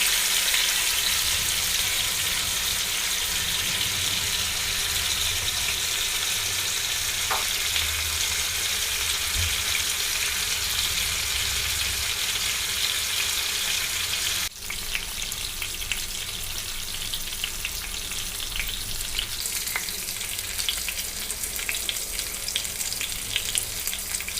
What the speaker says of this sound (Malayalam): ഓവർനൈറ്റ് മസാല പുരട്ടി വെച്ച ചിക്കൻ നമുക്കിനി വെളിച്ചെണ്ണയിൽ വറുത്തെടുക്കാം.